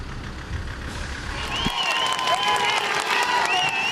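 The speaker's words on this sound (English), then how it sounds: "Hundreds of supporters applauded as they passed Tweddell Avenue peacefully." Hundreds of supporters applaud along a street as an Orange parade passes peacefully during the Twelfth in Northern Ireland, a steady wash of clapping with distant engine rumble underneath and whistles overhead.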